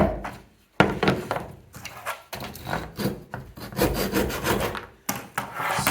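A hand saw cuts through timber in a carpentry workshop, with repeated close rasping back-and-forth strokes, a few short stops between runs and an occasional wooden thunk.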